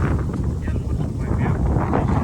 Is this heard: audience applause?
no